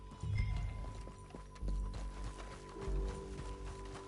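Horse hooves galloping in Red Dead Redemption 2, a steady rapid clip-clop rhythm over a low rumble of movement, moderately loud and continuous with no voices.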